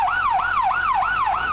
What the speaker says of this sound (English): several ambulances to carry runners to the hospital